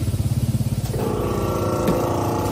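A Yamaha Jog ZR 70cc two-stroke scooter engine runs with a rapid, pulsing put-put beat at first, then settles into a denser, steady buzzing drone, loud and close with no talk.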